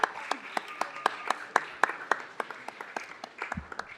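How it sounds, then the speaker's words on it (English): A small city council meeting audience applauds its commissioners, with distinct, fairly sparse claps in a quick, uneven rhythm, moderately close and steady for a few seconds. "A big round of applause for our commissioners."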